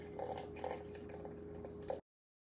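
Water trickles slowly into a sourdough mixture in a bowl, a soft, steady pour with faint drips and splashes, close and quiet, ending abruptly.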